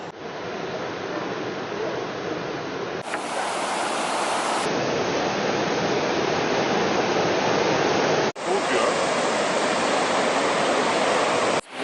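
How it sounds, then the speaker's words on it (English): Steady, dense roar of a waterfall at Agua Azul near Palenque filling the whole scene, loud and continuous with no voices. "Checking out the waterfalls"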